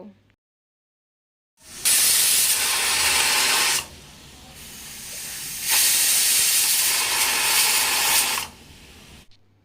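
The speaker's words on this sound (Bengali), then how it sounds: "তিন থেকে চারটা সিটি লাগিয়ে নেব" A pressure cooker releases steam while cooking egg khichdi with ghee, giving two long, loud whistling hisses separated by a brief lull, close by and with no voices.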